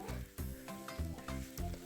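Spice paste and singhi fish fry in a pan for an Assamese curry, giving a loud, steady sizzle with rhythmic stirring and scraping strokes about every half second.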